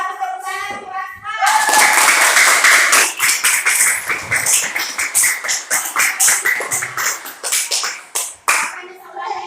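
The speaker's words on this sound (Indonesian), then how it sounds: "bagus tepuk tangan untuk Aswa" Classroom applause from a group of students for a classmate who answered a lesson question: quick, dense clapping that starts after a second, holds steady and loud for several seconds, then thins into scattered claps at the end.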